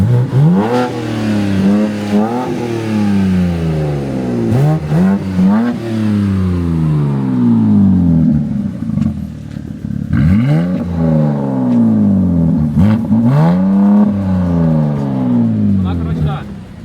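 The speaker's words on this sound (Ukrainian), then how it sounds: "Вихлоп можеш зрівняти, а газані." BMW M4 G82 and F82 engines revving hard through their exhaust, repeated rising and falling sweeps, loud and close, with people talking over them.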